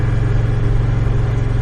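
A cruiser motorcycle's engine rumbles in a low, steady drone while riding along winding roads near Stoney Lake, loud and continuous throughout with no speech.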